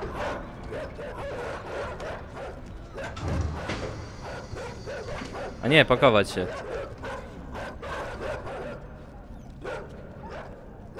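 Several dogs give yips and whimpering barks amid a busy scene, the sounds scattered through steady overlapping talk from a group of people, with a louder burst of yelping in the middle.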